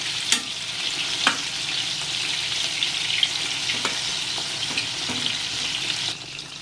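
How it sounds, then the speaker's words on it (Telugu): Chicken pieces frying crisp in oil in a pan, a steady close sizzle with a few sharp clacks of the pieces being turned, ending in a slight drop in loudness, no talk. "ఈ విధంగా రెండో వైపు కూడా తిప్పుకుని ఇటువైపు కూడా వేగనివ్వాలి."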